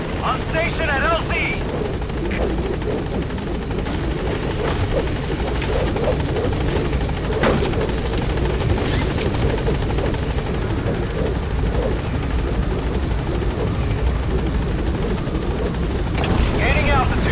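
A helicopter arriving at a landing zone in the video game Metal Gear Solid V: The Phantom Pain, with a continuous loud rotor thrum and engine whine throughout while a voice speaks over radio on top.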